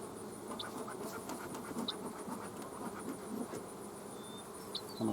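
Bees buzz around an opened hive in a steady, close, faint drone, with a few higher zips as individual bees pass near and light scratchy handling noises underneath.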